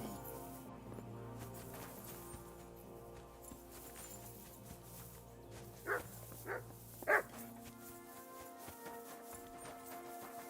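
A dog barks three times in quick succession in a game stream, short sharp yelps rising over a low bed of music and ambient background noise.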